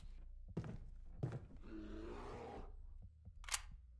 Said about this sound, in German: Ich muss mal eben nachladen.